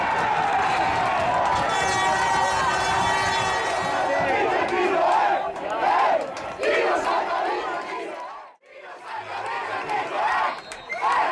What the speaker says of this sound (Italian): E tra i cori delle reciproche tifoserie la partita ricomincia